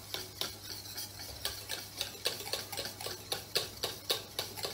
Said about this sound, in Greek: συνεχίζω να ανακατεύω γιατί βλέπω κομματάκια από το βούτυρο μέσα